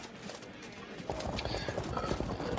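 Horse hooves clip-clop in the strategy game Field of Glory 2 as horse archers advance, a quick irregular patter of many hoofbeats rising in loudness after a quieter start.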